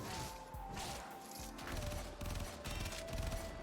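Rapid bursts of Tigris double-barrel shotgun fire in the Warframe video game, sped along by Harrow's fast reload, repeating with loud crashing blasts over a steady background drone, no talk.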